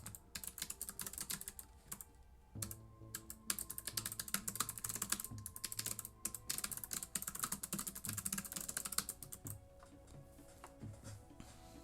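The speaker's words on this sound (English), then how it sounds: "But let me start typing." Rapid, continuous clacking of keys on a computer keyboard, close and crisp, with a brief pause early on and another near the end, and no voices.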